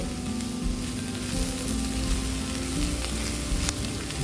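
Gurugaaku greens fry in a pan over a medium flame, giving a dense, even sizzle that stays close and steady for the whole stretch without any talk.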